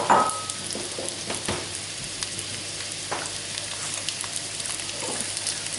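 Onions tipped into oil in a large wok fry in a steady, close sizzle, with a few sharp clatters early on and scattered crackles throughout.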